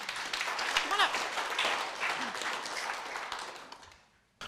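Short burst of audience applause at a user group event, moderate and fading out over a few seconds, with a voice speaking over the clapping.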